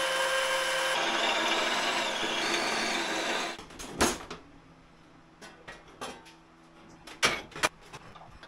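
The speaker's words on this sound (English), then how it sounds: "Time to drill the holes." A power drill whirs steadily for a few seconds, drilling holes in welded-on metal tags, then stops, followed by scattered knocks and clunks of handling metal parts.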